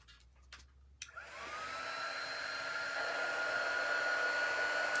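A hair dryer clicks on and runs steadily with a loud, close whine as it dries paint on a handmade home sign, after a few faint handling taps.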